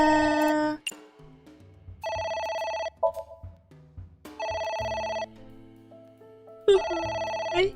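A telephone rings in repeated electronic bursts in the video game AI: The Somnium Files, loud and close, with short pauses and some low clicks and shuffling between rings.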